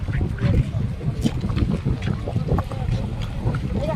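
Fishing trawlers return into the estuary at Digha, their low engine rumble continuous and fairly close under gusting wind, with voices talking over it.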